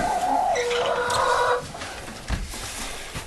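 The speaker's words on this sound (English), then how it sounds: "There's my chickens there." Chickens in a backyard coop give loud, close clucks and a drawn-out squawking call over steady farmyard background, then quieter scattered clucking.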